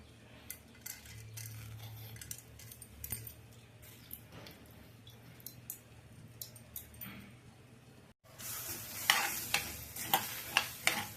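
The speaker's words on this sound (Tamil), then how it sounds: "அடுப்பில் பாத்திரம் வச்சு நல்லா வறுத்துக்கலாம்" Dry split mung beans rustle and skitter in a metal pan as they are dry-roasted and stirred, with scraping and light clinks growing brighter toward the end.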